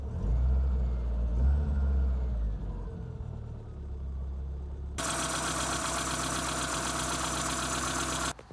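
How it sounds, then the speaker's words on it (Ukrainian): A ZAZ Sens car engine runs steadily up close, a low rumble joined partway through by a louder, brighter mechanical whir that holds to the end. "зараз двигун працює доволі таки непогано"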